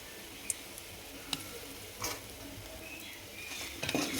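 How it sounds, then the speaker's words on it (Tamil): Small pieces of fish 65 fry in hot oil with a soft, continuous sizzle, punctuated by faint ticks and a clink of a utensil stirring, quiet and close. "சின்ன சின்னமாக போட்டு இப்படி பொறிச்சு எடுத்துக்கோங்க"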